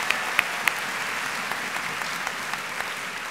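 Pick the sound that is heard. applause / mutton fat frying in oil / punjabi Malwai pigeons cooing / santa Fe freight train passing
applause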